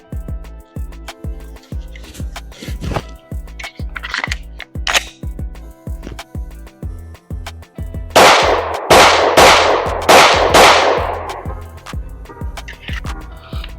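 A factory-compensated Glock 19C Gen 4 pistol fires five loud, sharp shots in quick succession at a shooting range, preceded by a faint, steady ticking.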